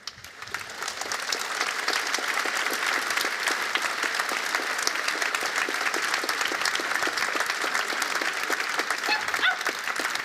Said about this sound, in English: people are applauding to this